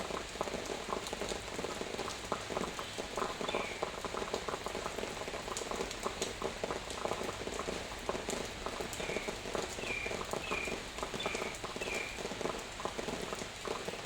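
Heavy afternoon rain pours down in a dense, steady hiss with fine crackling drops hitting surfaces close by, continuous and even for the whole stretch with no voices.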